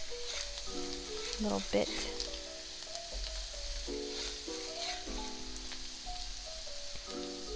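Onions sizzle and fry steadily in a pan for garlic pasta, a continuous close crackle with occasional stirring, while a voice talks over it intermittently.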